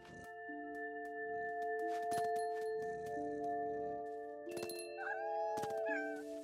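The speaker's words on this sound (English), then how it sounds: "Aw, little tiny cat sounds." Tiny cat meowing in the What Remains of Edith Finch video game, a couple of soft, high mewing calls near the end over quiet ambient game tones and faint clinks.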